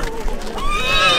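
A horse gives a loud, close whinny that rises and wavers for about a second, with faint background noise and no clear talking.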